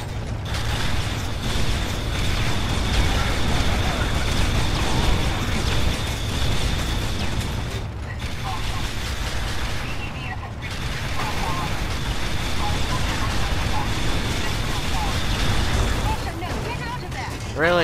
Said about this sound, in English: I'm driving a fucking rocket tank.